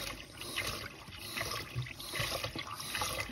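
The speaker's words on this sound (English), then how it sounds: "See how it's like pulsing the water and it doesn't get hot even if you turn it on." Water pulses unevenly from a kitchen tap in an off-grid home, a faint gurgling, sputtering flow that surges and eases in irregular bursts, heard alone.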